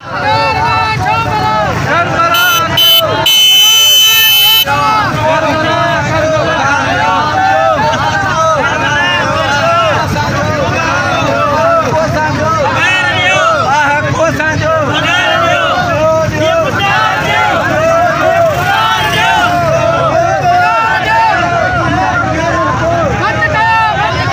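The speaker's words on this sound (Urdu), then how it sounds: "جبکہ اس موقع پر وہ کیا نعرے بازی کر رہے ہیں، سنیے انہی کی زبانیں" Protesting municipal employees in Qambar Shahdadkot chanting slogans together, a loud, dense crowd roar of rhythmic shouting that fills the whole stretch after a brief burst of noise at the start.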